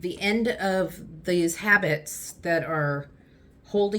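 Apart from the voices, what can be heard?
None of the usual background noises is heard.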